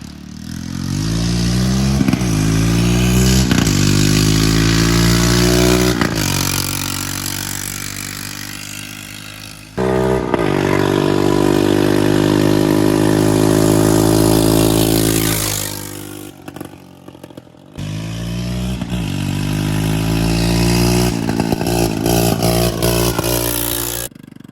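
A cheaply restored Honda Rancher ATV engine revs hard and close in three long loud bursts, its pitch climbing and falling between throttle blips with a raspy, rattly exhaust note.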